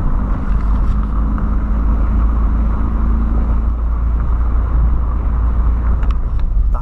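Steady low engine rumble and road noise as a Volkswagen Voyage tows a 2008 Polo sedan, continuous and fairly loud with some wind buffeting.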